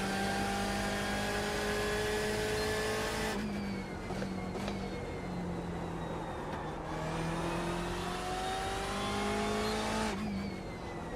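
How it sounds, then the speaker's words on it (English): Vintage race cars roar past on the Sebring track in a historic sportscar event, several engines revving loud and near, with rising and falling pitch sweeps as cars close in and pass one after another, no talk. "Sorry, Joel, I had a bunch of cars coming up on me"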